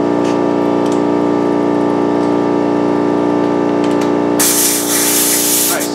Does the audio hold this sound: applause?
no